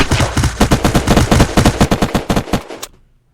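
Rapid video game gunfire rattles out in a loud, dense burst of about twenty shots in quick rhythm, then stops abruptly into silence.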